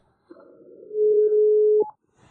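During a phone call, a steady electronic telephone tone holds loud and alone for over a second, then cuts off with a brief pitch change.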